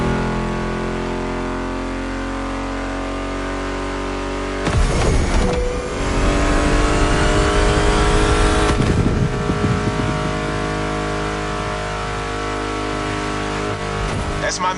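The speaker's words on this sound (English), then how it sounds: "Meshes well with the sound of the engines, you feel me?" Car engines in The Crew Motorfest, a steady engine drone under music that swells into a louder revving surge for a few seconds before settling, with a voice speaking over it.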